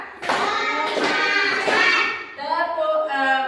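A class of kids claps hands together three times in a row, the sharp claps blending with children's chanting voices close by.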